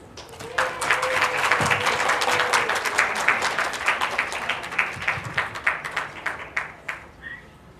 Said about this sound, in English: Ladies and gentlemen, a warmer applause